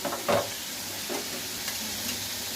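Ghee goes into a pan of pointed gourd roast and sizzles softly, with a brief louder burst near the start and a few faint stirring touches after, close and quiet with no talk.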